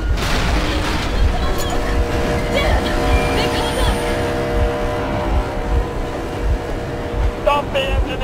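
A boat engine drones steadily in Metro Exodus, a constant low rumble running the whole time beneath talk, with a few louder thuds along the way.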